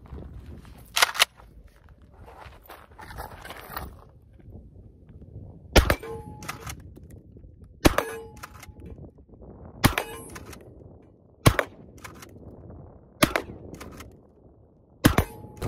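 A Kel-Tec KSG 12 gauge bullpup shotgun with an 18.5-inch barrel firing mini shot shells, seven or so loud, sharp blasts at irregular intervals of a second or two, with quieter handling noise and shuffling between shots.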